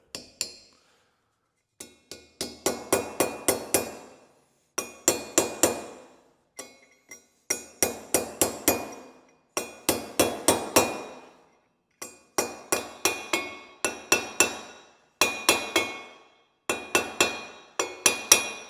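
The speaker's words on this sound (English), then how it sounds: "I'm going to use that as my driver to drive the seal in" Rapid bursts of sharp metallic hammer blows driving a bearing seal into a housing on a Case 1840 skid steer, repeated in quick clusters with short pauses between, close and ringing.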